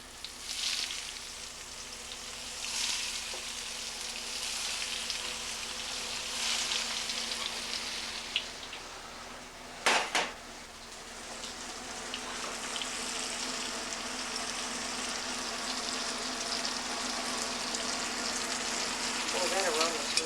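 Food sizzling steadily in a hot pan on a cloudy day, a continuous close hiss and bubble lasting throughout with a brief clatter partway, no talking over it.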